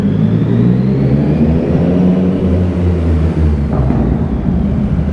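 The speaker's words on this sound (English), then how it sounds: "You can hear my little exhaust burbles in here really good" A motorcycle's exhaust burbling at low revs, a loud, close, throbbing rumble that stays steady and uneven, with a slight rise in pitch as it rolls along.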